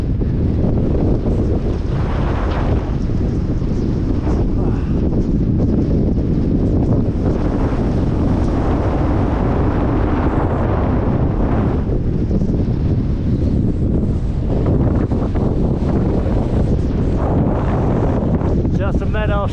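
Strong wind buffets the microphone on the Tongariro Alpine Crossing in New Zealand, a loud continuous roaring rush with surging gusts, and a person speaks briefly over it.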